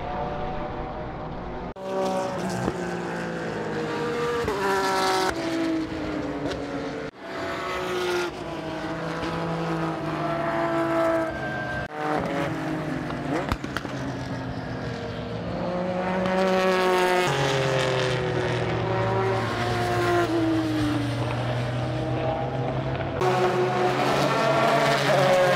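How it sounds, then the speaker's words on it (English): Porsche race car engines roar at Laguna Seca during the 2018 Rennsport Reunion, a loud, continuous stream of motors rising and falling in pitch as cars pass, with no talking. "The sounds of glorious motors."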